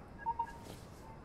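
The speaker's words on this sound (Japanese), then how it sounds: "電話だ。" A phone rings in Lacuna, a sci-fi noir adventure game: two short electronic beeps in quick succession, fairly quiet over a soft background hum.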